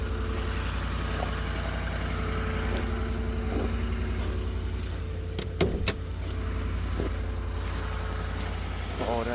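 A 2009 Dodge Ram 1500 pickup with the 5.7 Hemi V8 idling right after a true cold start, a steady low rumble with a few sharp clicks midway, heard up close with no talking.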